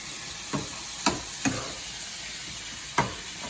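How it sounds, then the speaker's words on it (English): Garlic salt sizzles in a pan of garlic-infused olive oil, a steady close hiss of frying broken by about five sharp, irregular utensil taps or stirring clicks, with no talking. "And then take some garlic salt and just sprinkle it across there. Okay? And we're gonna just let this fry."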